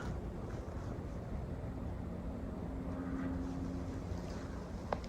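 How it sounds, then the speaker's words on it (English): Steady rushing of a river along an interstate, a continuous broadband wash with a low traffic rumble underneath, constant and fairly loud, with a faint tonal hum midway and a brief sharp click near the end. "You can hear the rushing of the river and the interstate"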